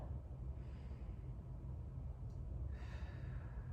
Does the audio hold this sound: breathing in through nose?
yes